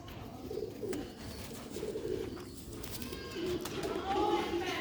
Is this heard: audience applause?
no